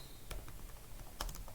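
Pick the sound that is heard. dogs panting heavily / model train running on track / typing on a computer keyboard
typing on a computer keyboard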